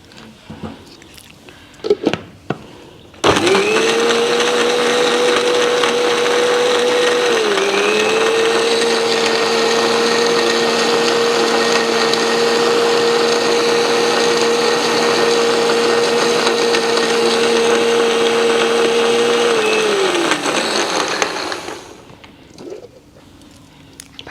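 A mixer grinder blends sweet corn kernels with water and a spoonful of cardamom powder, roaring loudly and steadily for about seventeen seconds. It starts abruptly, dips in pitch briefly partway through, then winds down and stops.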